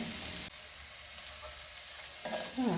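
Onions sautéing in a pan as part of a leftover idli dish, a soft, steady low sizzle with a sharper burst of frying near the end, heard alone without talk.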